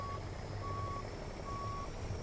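Reversing beeps from a Kenworth W900 day cab truck hauling cement in American Truck Simulator, steady evenly spaced tones over a constant low engine hum.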